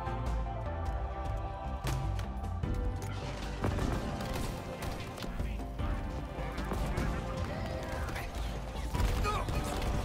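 Gunfire from AI enemies in a Halo Infinite Forge match comes as repeated sharp shots and bursts over a busy mix of game effects and mechanical clatter, fairly faint overall.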